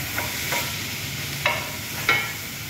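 Chicken breast cooking in a pan with sautéed ingredients, a steady sizzle under a few sharp scraping stirs of a utensil at irregular intervals, close up.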